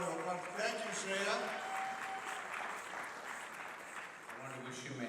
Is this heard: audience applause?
yes